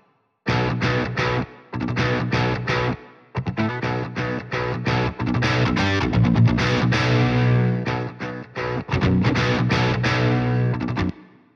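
An electric guitar played through a clean amp channel of the Bogren Digital MLC SubZero amp suite, with a little delay and reverb, rings out in chords and phrases with brief pauses between them and no voice.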